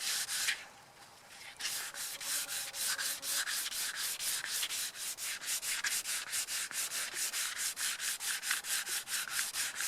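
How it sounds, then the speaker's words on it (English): Rapid, rhythmic scratchy rubbing of sandpaper on a metal wheel rim from a Ferguson FE35 tractor, strokes repeating steadily and close up, with a brief pause near the start. "watching me sand a rim"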